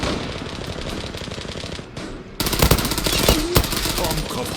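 Rapid automatic gunfire in the online shooter Zula, loud bursts of shots rattling over a continuous game background, with brief voice sounds mixed in.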